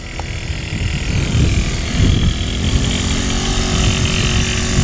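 A moped engine revs hard under twisted throttle, a loud, continuous buzzing drone that swells and holds close by, with no talk over it.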